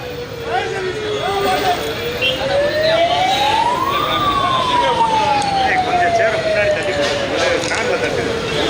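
Ambulance siren passing close by, its wailing tone rising to a peak and then sliding lower as it moves away, loud and steady, with faint background voices underneath.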